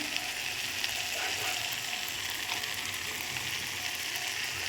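Turmeric and spices fry in a pan over a clay stove, giving a steady, close hissing sizzle that stays fairly quiet and even throughout.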